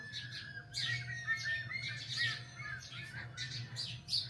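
Sparrows chirp and squawk in quick, overlapping calls, fairly close and steady, over a low background hum.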